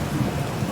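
A thunderstorm brings dense, steady rain pattering onto leaves over a low rolling rumble of thunder, loud and close with no voices.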